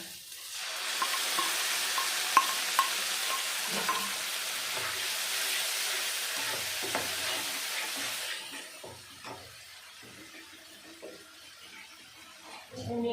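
Fried spinach goes into a masala frying in a pan for palak paneer. A loud, close sizzle fills the first half, then it drops to a quieter sputter broken by scattered stirring clinks and thuds.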